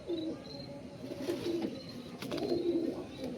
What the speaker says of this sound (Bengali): পায়রা হাতে থাকছে না, প্রচুর ছটফটে পায়রা